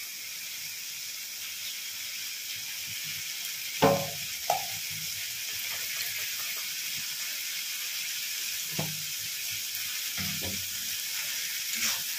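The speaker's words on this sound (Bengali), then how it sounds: "ঢাল তরোয়াল হাতে নিয়ে মাছ ভাজতে নেমে গেছি" Steady, crackling sizzle of pabda fish frying in hot oil in a wok, close up, with a few soft clinks and stirring taps breaking through.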